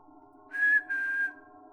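A person whistles back a short tune: two clear, steady whistled notes, the first brief and the second longer, sounding close against a quiet low hum.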